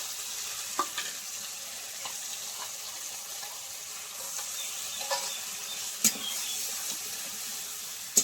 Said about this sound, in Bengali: আমি 1 মিনিট মতো এরকম নেড়ে ছেড়ে নেবো। মটরশুঁটিটাও সেদ্ধ হয়ে যাবে ততক্ষণে।